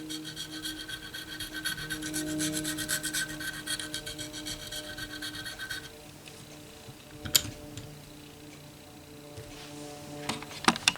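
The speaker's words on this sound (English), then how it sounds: "Just filed them on the edge with a slight taper." Pearl inlay dots held in a vise being filed on the edge with a slight taper, producing a steady close raspy rubbing for several seconds, then quieter scattered scrapes and taps.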